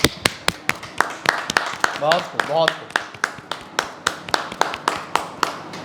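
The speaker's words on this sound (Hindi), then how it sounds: "फिर से तालियां बजती रहे, मैं चाहूँगा सब लोग तालियों से।" An audience at an Apex Modern School event claps in a steady, fairly slow rhythm of sharp, distinct claps across the whole stretch, with a voice speaking briefly in the middle.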